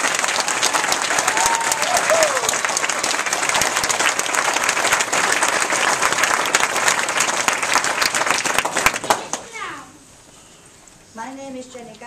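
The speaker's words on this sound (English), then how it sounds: "would you like to greet them with a round of applause?" Wedding guests applauding at a marriage ceremony, a dense sustained burst of clapping from a crowd lasting about nine seconds before fading, followed by a voice speaking alone.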